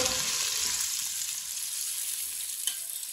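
Onions frying in a pan for Punjabi-style biryani, a steady close hiss of sizzling oil with light stirring and a small clink near the end.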